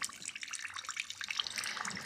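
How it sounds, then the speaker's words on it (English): Water draining fast through sandy soil, a soft continuous trickling hiss with small bubbly pops, faint and close, with no voices. "Now watch how this flows through very fast and quickly, and it doesn't hold the water."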